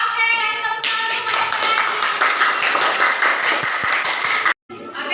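A classroom of students claps for a group in a loud, brisk burst of many hands that stops abruptly near the end, with a short silence and then a little noise afterward.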